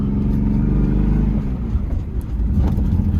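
A BMW car engine runs rough with a misfire, giving a loud, close, uneven low rumble that throbs and wavers throughout.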